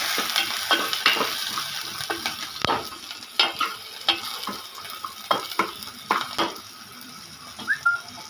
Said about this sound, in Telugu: పచ్చిమిరపకాయ ముక్కలు, రెండు వేసుకొని కొంచెం వేగించుకోవాలి.